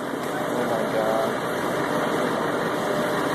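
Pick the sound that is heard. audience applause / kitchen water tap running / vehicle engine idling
vehicle engine idling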